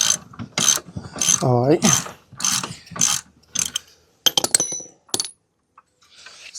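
A ratchet wrench loosens an adjuster bolt on a 2025 CFMoto 450SS motorcycle. After someone speaks briefly, a few quick, loud, close bursts of metallic ratchet clicks follow.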